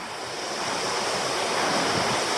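A clear creek near Meander Falls in Tasmania rushes beneath a trail bridge, a steady, dense wash of flowing water filling the whole moment at an even level, with no voices.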